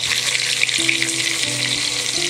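Salted hilsa pieces fry in hot oil with a steady, bright sizzle that fills the whole stretch, close and continuous, with faint low clatter beneath and no voices.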